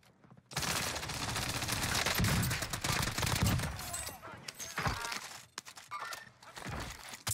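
EM2 SMG gunfire in Call of Duty Cold War Warzone on Rebirth Island, long loud bursts of rapid automatic fire followed by shorter scattered volleys, with someone speaking in between.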